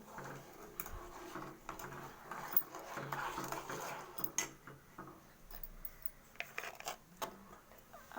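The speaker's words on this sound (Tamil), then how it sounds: "நல்லா இப்படி கிண்டிக்கணும்." A spoon stirring sugar into milk in a metal pot, with soft scraping and clinking of the utensil against the sides in an irregular rhythm, close and fairly quiet.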